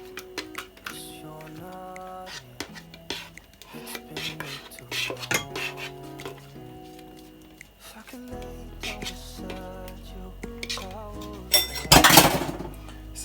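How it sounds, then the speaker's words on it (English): Spatula or utensil scraping blended ripe plantain out of a blender jar, with repeated close clinks, taps and scrapes against the container in an irregular rhythm, louder near the end. "I'm gonna scrape out everything out of that."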